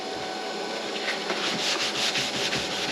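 Old coating being scrubbed off a BMW headlight lens, a steady close abrasive rubbing that runs unbroken with slight surges in intensity and no voices.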